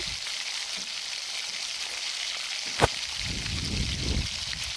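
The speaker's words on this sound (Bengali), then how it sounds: "এইভাবে কষিয়ে নিতে থাকবো।" Masala being sautéed in a pan in a home kitchen, a steady broadband frying hiss throughout with one sharp clack near the middle and scraping stir sounds toward the end, no talk.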